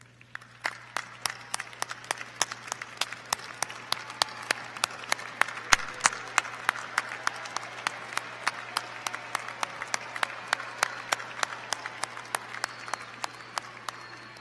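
Graduation ceremony audience at the University of Tennessee at Chattanooga, spring 2017, applauding at length: a steady bed of crowd clapping with a few close, sharp individual claps standing out, while a low hum runs underneath.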